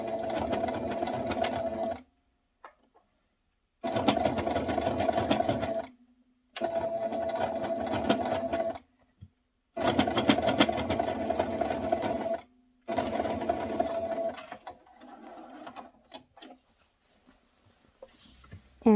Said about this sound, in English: fold it in once, fold it in twice, and sew down that side as well